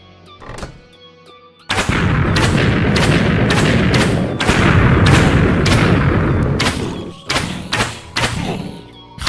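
Explosive arrows detonate in modded pre-alpha Minecraft, a rapid series of heavy booming thuds, loud and close, running almost continuously for several seconds before a few separate blasts near the end, with no talking.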